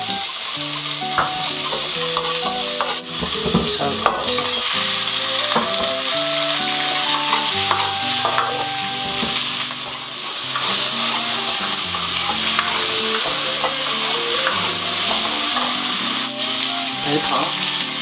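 Scallion, ginger and garlic stir-fried in a wok with oil, water and potato slices, giving a loud, steady sizzle with scraping stirs and clinks throughout.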